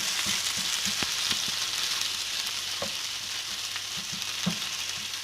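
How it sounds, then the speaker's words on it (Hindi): Onion, garlic and ginger fry with a steady hiss in a pan for an aloo baingan dish, and light taps of a stirring spoon come now and then. "अब इसकी हम थोड़ी सी प्याज के साथ भुनाई करेंगे।"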